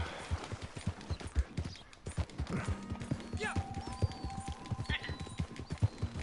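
Horse hooves clop in a fast, steady rhythm while riding in the video game Red Dead Redemption 2, under game music, and voices talk over it.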